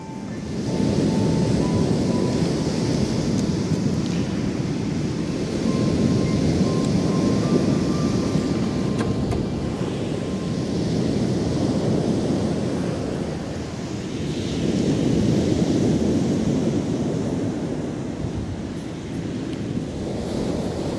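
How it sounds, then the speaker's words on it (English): Strong wind by the sea roaring and buffeting in long gusts that swell and fade, loud and continuous, with no voices. "And it is windy"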